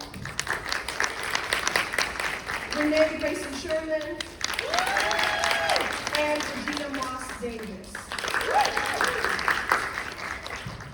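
An audience at a legislative conference panel on reproductive freedom applauds to welcome the panelists, a steady roar of clapping under a voice announcing names over a loudspeaker.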